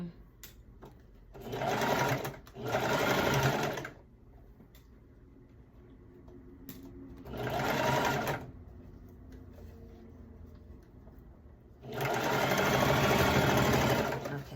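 A sewing machine stitches the shoulder seams of a two-piece skirt set in three loud bursts of a few seconds each, separated by quiet pauses.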